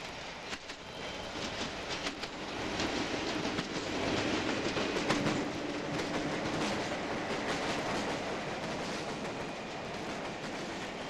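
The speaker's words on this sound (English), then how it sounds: "This scene of a train leaving Croxley Green depot was filmed before 7 a.m." Bakerloo line train pulling out of Croxley Green depot in the early morning: a steady, fairly close rumble with rail clatter and a rise in loudness midway, no voices.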